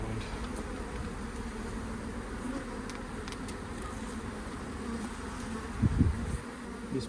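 Honey bees drone in a steady, dense buzz around a five-year-old colony being relocated, a low continuous hum that is fairly quiet and even, with a few brief louder passes nearby and no speech.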